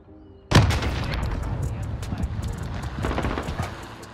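Ghostly Recollection M4A1 assault rifle in a video game fires in a sudden loud burst of rapid shots that rings out for several seconds, with a second flurry near the end.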